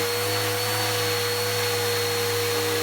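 A Goblin bagless vacuum cleaner running steadily, a loud constant motor whine with a fixed high tone and a dense airflow rush, with no pauses or voices.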